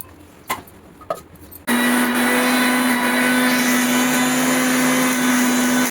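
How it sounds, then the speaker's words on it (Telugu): A mixer grinder blending ginger, garlic and green chilli into paste, starting abruptly after a few light clicks and then running as a steady, loud, high whirring drone until it cuts off. "అల్లం ఎల్లిగడ్డను కూడా మిక్సీ పట్టాలి"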